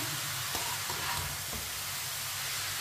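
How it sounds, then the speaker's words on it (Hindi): Grated carrots for gajar ka halwa cook in a pan while a spoon stirs them, giving a steady soft sizzle with faint scraping, alone and continuous. "अब इसे 2 मिनट के लिए चम्मच चलाते हुए पका लेते हैं।"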